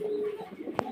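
A pair of domestic pigeons coos softly, a low steady coo that ends in a brief sharper burst near the end.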